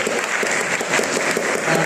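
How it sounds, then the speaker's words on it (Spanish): A physiology class applauds classmates: a steady patter of many hands clapping, moderately loud and continuous, with faint voices mixed underneath. "Aplausos a los compañeros."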